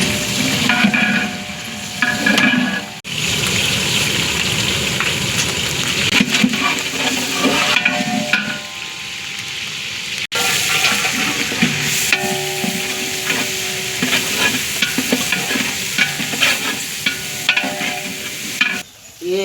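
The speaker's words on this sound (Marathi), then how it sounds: "तडतड भाजून घ्यायचं. मिरची भाजून घ्या." Green chillies fry and sizzle steadily in hot oil for a tempering, with cumin, for a large catering batch of veg pulao, with occasional stirring scrapes and brief pauses throughout; no talk.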